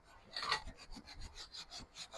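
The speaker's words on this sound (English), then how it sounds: "as I'm rubbing the leather prepping, we actually get to see the original colour of the seat" A leather car seat being rubbed and prepped during seat restoration, giving close, rhythmic scrubbing strokes, about eight to nine rasping passes in quick succession with no talking.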